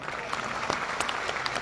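An audience in a Patna hall claps enthusiastically during a business speech, a brief burst of dense applause with sharp individual claps standing out, and a voice faintly underneath.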